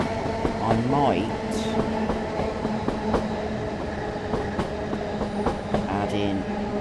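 In Train Sim World 5, a simulated train rolls along with a continuous rumble and a scatter of sharp rail clacks, close and fairly loud, as a person speaks over the running sound.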